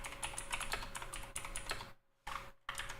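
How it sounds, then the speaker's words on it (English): Rapid, dense keystrokes on a computer keyboard sound up close and loud, broken by two short silent gaps before the clicking resumes. "So let me just type that in right here."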